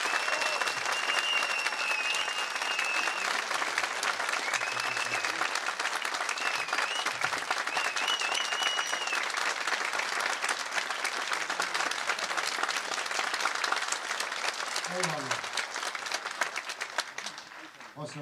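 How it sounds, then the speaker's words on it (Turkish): A conference audience gives a speaker strong, sustained applause, a thick, even roar of many clapping hands that holds for a long stretch before tapering, with a brief voice surfacing near the end. "bir alkış istiyorum efendim"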